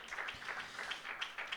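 A church congregation at a Sunday meeting claps for Jesus Christ. The applause is brief and steady, with a few sharper claps standing out.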